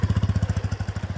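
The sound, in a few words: motorcycle passing by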